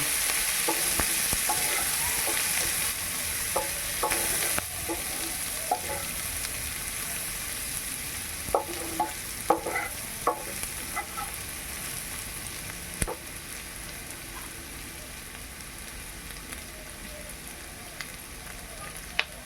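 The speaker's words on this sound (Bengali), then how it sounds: "পেঁয়াজগুলোকে আমি ভালো করে লাল লাল করে ভেজে নেব" Four medium-sized onions frying steadily in a pan toward browning, a continuous close sizzle broken by irregular scraping clicks of stirring, with no talking.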